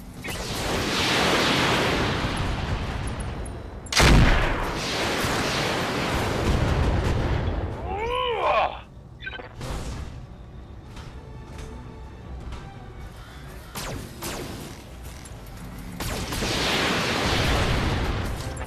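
Mechs in the video game BattleTech unleash an alpha strike: loud booming weapon blasts and rushing missile whooshes build in heavy overlapping volleys, with a sharp impact crack and a falling whine in the middle before the barrage swells again.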